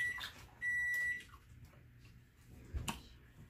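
A short electronic beep sounds twice, a steady high tone held briefly, in a quiet room with faint background noise.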